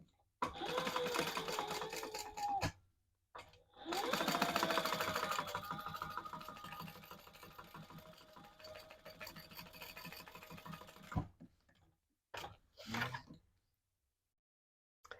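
A sewing machine stitches down the card slots on a crossbody bag in bursts of rapid, close mechanical chatter, with short pauses between runs and a few quick final stitches near the end.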